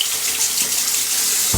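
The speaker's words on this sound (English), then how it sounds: "So you just rinse it underwater and then all the hairs come out." Razor being rinsed under a running tap in a sink, a steady close rush of water splashing into the basin, brief and alone.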